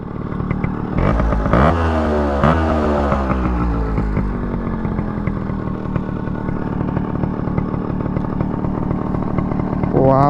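A Yamaha RX135 two-stroke motorcycle fitted with an extremely loud exhaust revs and rides past close by, its harsh buzzing engine note rising and falling through gear changes, dominant throughout.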